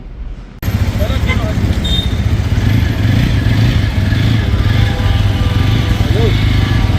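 A motorcycle engine runs loud and close in a steady idling rumble, starting abruptly and continuing without pause, with traffic-like background noise.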